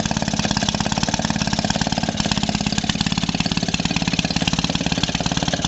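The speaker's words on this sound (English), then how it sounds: "But we can run the Maytag like this if we left that belt guard off for a little while" A 1946 Maytag 72D single-cylinder engine chugs steadily and loudly up close, driving a 1927 Maytag washing machine through a belt, its rapid even firing pulses running throughout.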